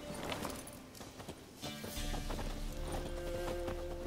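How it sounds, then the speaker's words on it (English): Horse hooves clip-clopping in a steady rhythm during a short ride in a video game, fairly faint, the gait shifting partway through as other game sounds swell in behind. "And a short horse ride brings us to the Pella's hut."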